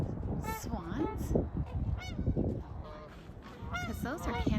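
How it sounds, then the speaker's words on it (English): Near a lake in Des Moines, Iowa, Canada geese honk close by: loud, repeated nasal calls, some overlapping, over an outdoor background of wind and noise. "those are Canada geese right there"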